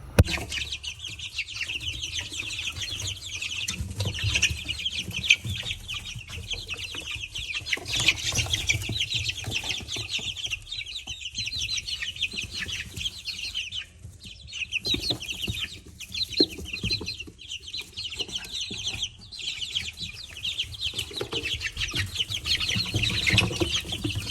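Chickens cluck steadily throughout, with a busy farmyard hum of birds, occasional rustles and wing flaps, fairly close and continuous.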